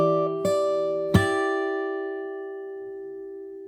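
Fingerstyle acoustic guitar plays a passage: three plucked notes about half a second apart, with the last one ringing and fading slowly. The notes are clear and close, and nobody talks.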